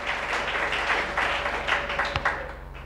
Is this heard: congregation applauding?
yes